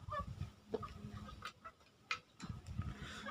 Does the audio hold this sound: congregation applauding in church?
no